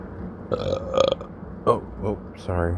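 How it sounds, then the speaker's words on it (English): A close, drawn-out burp rumbles through the middle, with a shorter belch and brief vocal sounds around it, all from one person in a quiet room. "I just burped."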